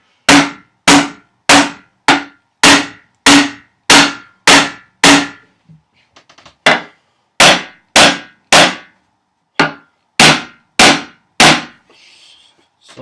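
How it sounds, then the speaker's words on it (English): Loud, close hammering on nails: a quick run of evenly spaced ringing strikes, a brief pause, then another burst of blows, roughly fifteen in all. "Sorry, I don't have volume control on my hammer."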